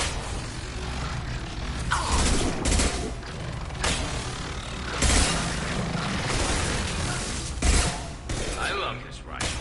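A rifle firing in the video game Mass Effect 2, with repeated loud booming shots and bursts across a dense combat soundscape, and voices in the mix.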